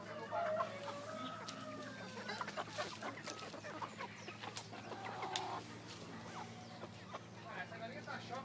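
Chickens cluck and squawk around a farmyard coop, with repeated close, busy calls over a low background hum, while people talk throughout.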